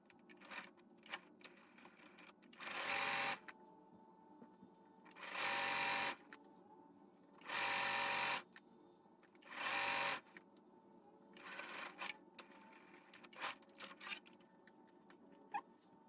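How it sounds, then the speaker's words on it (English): A sewing machine stitches T-shirt quilt blocks together at a quarter-inch seam, running in four loud bursts of about a second each, followed by shorter stop-start runs, with quiet handling and fabric rustle in between. "we're gonna start sewing on a 1/4 inch distance or all block"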